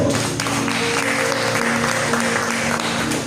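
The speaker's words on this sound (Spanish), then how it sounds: "Dale votos de aplausos al Señor." Steady applause from a church congregation fills the whole stretch, dense clapping from many hands, loud and continuous with no pauses.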